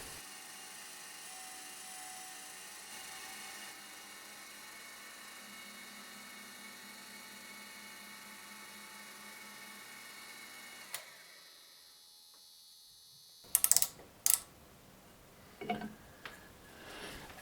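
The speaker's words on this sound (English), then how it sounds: "this time we can just plunge down because the length we want to grind is narrower than the grinding wheel" A cylindrical grinding attachment plunge-grinds a narrow section of a metal part, giving a steady, faint mechanical whine and hum that cuts out partway through, followed by a few sharp clanks.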